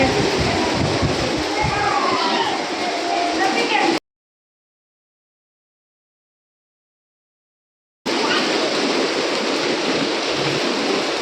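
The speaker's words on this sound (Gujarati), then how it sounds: "અત્યારે વરસાદ પણ ચાલુ થઈ ગયો છે" Steady rain hiss in Ahmedabad under distant voices, broken by several seconds of complete silence before the rain and voices return.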